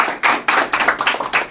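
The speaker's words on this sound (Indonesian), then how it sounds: "Tepuk tangan buat Isman." Live audience at an Indonesian comedy show claps in a burst of applause, dense and fairly loud, with rhythmic clapping swelling and easing over a moment with no talking.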